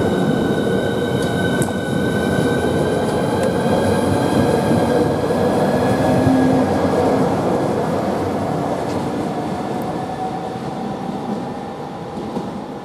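A Class 395 high-speed electric train rumbles steadily through Stratford International station with a broad low roar and faint high whine, easing slightly toward the end; no voices.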